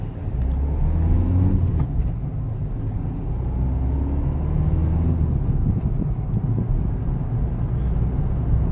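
Ford Figo Freestyle driving in economy mode, with a steady low engine and road rumble continuous and close throughout, fairly loud with no talk.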